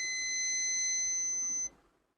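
A multimeter on continuity mode gives one steady, clear electronic beep lasting under two seconds while its probes touch a line on a dead mobile phone circuit board, then falls silent.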